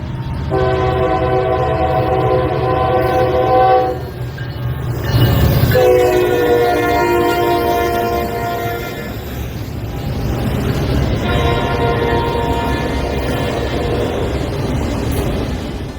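A Norfolk Southern SD60E diesel locomotive sounds several loud, sustained horn blasts, separated by short gaps, while the train rumbles past close by with rail clatter.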